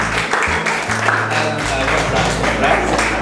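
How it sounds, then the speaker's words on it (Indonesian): An audience at a relaxed talk event at UNIBA Madura, Indonesia, applauds in a continuous broadband wash of clapping, with a low hum or musical tone underneath. "silahkan tepuk tangan."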